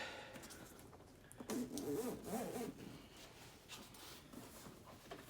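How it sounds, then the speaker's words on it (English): A zipper on a Chevrolet/GMC seat cover being pulled, with a louder stretch of rasping zip strokes in the middle against a low background hiss. "you can see that the zipper comes all the way down"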